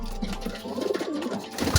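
Soft, low cooing of racing pigeons close by, a few rolling coos over quiet background.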